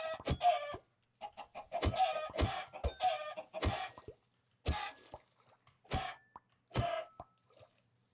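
Blocky chickens in modded Minecraft cluck in a run of short, close, fairly loud bursts with brief pauses between them, heard alone without any talk.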